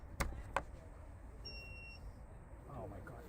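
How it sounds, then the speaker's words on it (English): A battery pack generator gives its low-battery warning, two short high beeps sounding faintly in the background at a cricket match, with voices talking nearby and a couple of sharp knocks early on. "the beeps from the back, that's our battery pack generator informing us that we are low on battery"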